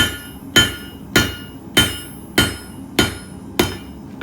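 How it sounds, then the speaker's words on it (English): Steady hammer blows land on the corners of a square-tapered H-13 tool steel punch during forging, seven sharp ringing strikes spaced evenly about every 0.6 seconds, close and loud with no talk. "taking the corners of our square taper, striking down right upon them to create"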